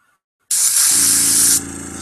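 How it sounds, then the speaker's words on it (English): Black primer hisses loudly out of a spray can in one steady burst of about a second, with a lower rushing tone continuing after the main blast cuts off. "Spray a little section there just to ensure that I'm working."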